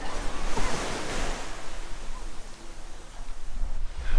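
Surf washing ashore at a secluded, empty beach in Lagos, Portugal, a steady broadband wash that swells and eases at close range, with wind buffeting the microphone.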